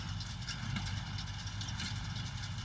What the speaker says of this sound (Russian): приехала утюковалка, делает нам тюки наконец